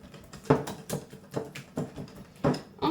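A whisk beats chocolate cake batter made without sugar or butter in a bowl, giving irregular soft scraping taps and swishes, close and fairly quiet, with no talk.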